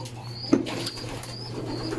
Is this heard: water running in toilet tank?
no